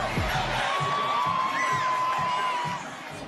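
A big basketball arena crowd cheering and whooping steadily at a Pelicans-Rockets game, a dense roar with a whistle-like tone riding over it that eases off near the end.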